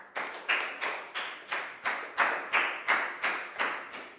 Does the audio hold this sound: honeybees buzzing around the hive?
no